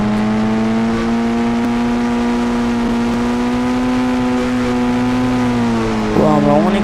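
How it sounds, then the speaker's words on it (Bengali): A car drifts and revs in a GTA 5-style driving game, its engine holding a loud, steady whine for several seconds before a sharp rev change and tire-screech near the end. "আমরা অনেক ড্রিফট করছি।"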